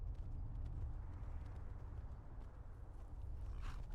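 Horse hooves clip-clop in Skyrim, a steady walking gait under a low rumbling game ambience, faint and without speech.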